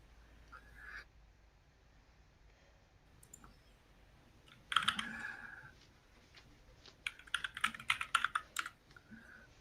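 Computer keyboard typing, faint scattered clicks that swell into a brief burst and then a denser run of keystrokes near the end, heard close and alone in a quiet room.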